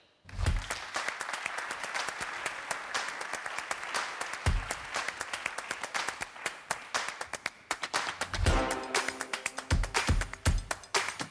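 An audience at a French business and employment round-table claps to welcome the debate panelists, sustained dense applause with occasional low thumps, continuing for over ten seconds before thinning into sparser, louder claps near the end.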